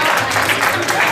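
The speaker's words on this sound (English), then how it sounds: "give yourselves a round of applause" Audience applause fills a convention hall, a dense, steady wash of clapping from a large crowd for just over a second, with a few voices mixed into the noise.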